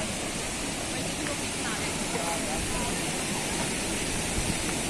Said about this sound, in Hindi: जबरदस्त झरना है